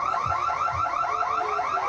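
Shop alarm at Belle Fries on Ludlow Street blaring during an attack by three women, a loud continuous electronic siren with rapidly repeating rising whoops, steady throughout with no talk.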